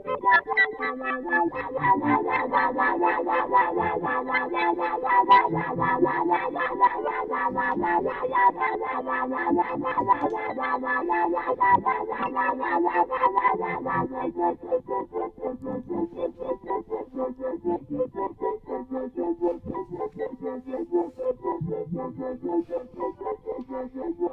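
Matthews Technician pedal running delay, reverb and looper together on an instrument, a dense layered wash of repeating notes and swirling echoes that thins slightly partway through, steady and loud with no talking.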